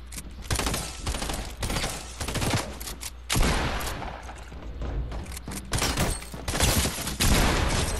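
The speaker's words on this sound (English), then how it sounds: "Stop shooting now!" Dense, loud gunfire in Fortnite, overlapping rapid shots in a nearly continuous barrage lasting the whole stretch, close and heavy with booming low end.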